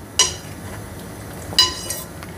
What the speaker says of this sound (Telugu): సో ఇప్పుడు నేను మూత ఇలా కొంచెం అలా ఒడ్డికలు పెట్టి స్టవ్ సిమ్లో పెడుతున్నాను